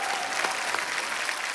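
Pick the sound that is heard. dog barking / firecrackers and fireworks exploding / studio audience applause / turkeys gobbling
studio audience applause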